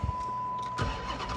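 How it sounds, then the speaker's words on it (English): Chrysler 300C, a rebuilt car, cold-starting up close: a short crank followed by the engine catching and settling into a rough idle, all within a brief burst. "let's hop in this thing, get us a little cold start going."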